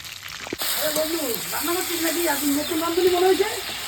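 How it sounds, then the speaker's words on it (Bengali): Chicken pieces fry in hot oil in a home kitchen, with a steady close sizzle and hiss under a person talking throughout. "আর এই মাংসগুলো কিন্তু আমি সব এইভাবেই ভেজে নেব"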